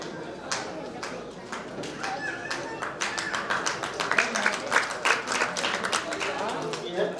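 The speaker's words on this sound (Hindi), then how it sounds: "तालियों से स्वागत कीजिए भाई।" An audience at an outdoor residential project draw event in Ali Nagar Karmauni breaks into scattered clapping that builds into steady, moderately close applause for several seconds.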